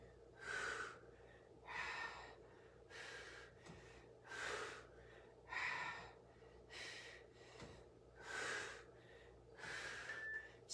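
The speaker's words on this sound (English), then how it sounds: "Breathing." Heavy, rhythmic breathing during a live cardio HIIT workout: about six loud, forceful breaths in regular cycles roughly every one and a half seconds, close and alone with no talk.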